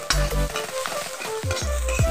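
Ginger, garlic and chili frying in hot oil give a loud, steady sizzle, broken by a few scraping stirs of a utensil in the pan, with no voices.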